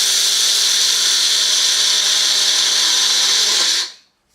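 An electric grinder whirs loudly and steadily as it grinds seeds fresh, a high dense motor roar that runs unbroken for several seconds, then cuts off abruptly and spins down.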